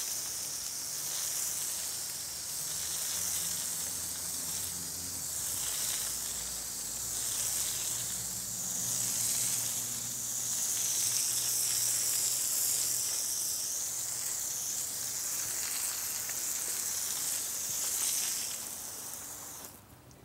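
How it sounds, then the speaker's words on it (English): A hose spray rinses cleaning solution down a brick wall from the top, producing a continuous, steady hiss of water hitting masonry, close and even in level for the whole stretch before tapering off at the very end. "rinse that wall off and get all that cleaning solution off"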